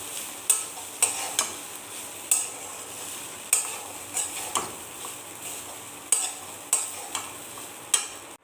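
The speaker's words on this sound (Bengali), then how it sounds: "তার মধ্যে আমি ধুয়ে রাখা চিড়েগুলো মিশিয়ে দিচ্ছি" Washed flattened rice being stirred into a frying pan, with a spatula scraping and tapping against the pan in irregular sharp clicks over a soft steady frying hiss, close and moderately quiet.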